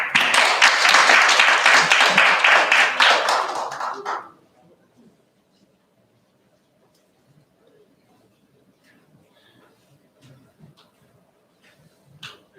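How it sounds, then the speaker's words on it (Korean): Applause from attendees at a maritime and port policy seminar round table, a full burst of clapping for about four seconds that stops abruptly, leaving quiet room tone with faint scattered noises. "김성범 부장님께 다시 한번 박수 한번 부탁드립니다"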